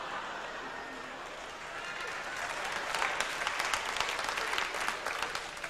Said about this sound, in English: it's a round of applause for the car there.